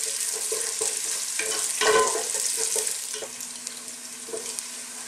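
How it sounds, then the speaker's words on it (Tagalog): Onions sautéing in a pan for a Filipino mussel soup, a steady soft sizzle broken by scraping stirs, with one louder clattering stir midway. "lulutuin lang natin ng mga ilang minuto yung sibuyas"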